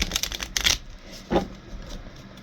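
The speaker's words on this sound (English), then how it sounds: "Just going to do a quick shuffle on these." A deck of starseed oracle cards is shuffled by hand in a few quick riffling bursts, close and crisp, followed by softer card handling and a brief tap, with no talking.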